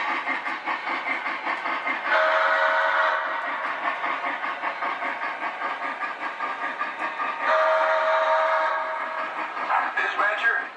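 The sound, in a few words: Lionel LionChief model steam locomotive running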